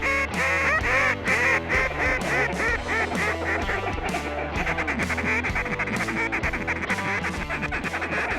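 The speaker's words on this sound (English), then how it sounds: "all them ducks and geese cutting wind up above us, responding to a call" A large flock of ducks and geese calls overhead during a waterfowl hunt, a dense, continuous chorus of overlapping quacks and honks, loud and steady throughout with no talking.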